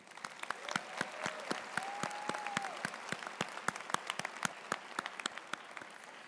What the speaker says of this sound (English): Please join us in a round of applause to thank all of our staff.